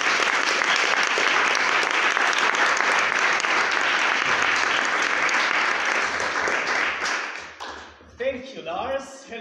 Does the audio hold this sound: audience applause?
yes